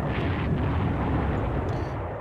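Bomber attack in the video game Panzer Corps, a loud sustained rumbling explosion roar filling the whole moment, broadband and steady, with no talking.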